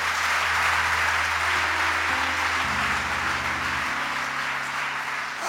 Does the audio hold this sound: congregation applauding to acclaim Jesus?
yes